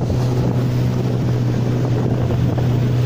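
Outboard engine of a small aluminium motorboat running on the Tucupi river, a loud steady drone with constant wind and water rush and no pauses.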